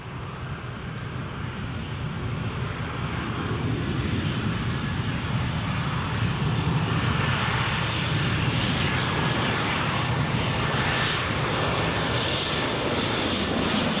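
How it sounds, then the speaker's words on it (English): Ryanair Boeing 737 landing at Newcastle International Airport in a crosswind, its engine roar swelling gradually from a moderate rumble to a strong, sustained jet noise that holds through to the end. "Ryanair 737 just coming in now"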